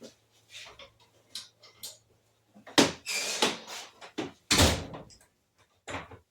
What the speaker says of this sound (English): Let me close my door real quick